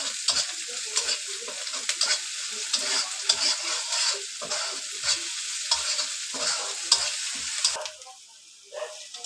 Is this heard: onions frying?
yes